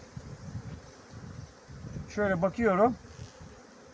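Honeybees hum steadily around an opened hive during a queen inspection, a low continuous buzz throughout, with someone speaking briefly over it near the middle.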